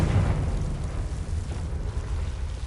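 A Confringo blasting spell going off in Hogwarts Legacy, a sustained low rumbling boom that stays loud and steady for the whole stretch without any clear separate bursts.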